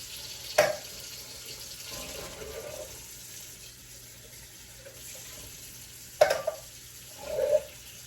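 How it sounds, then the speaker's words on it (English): Bursts of running water from a sink tap while four cans of chickpeas are drained and rinsed for a large vegan curry: two short splashy gushes separated by quieter stretches, fairly close, with no talking. "So I'm just going to drain and rinse 4 cans of chickpeas."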